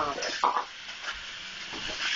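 Potatoes fry in hot grease, sizzling and crackling softly at close range, with a brief scrape of stirring early on.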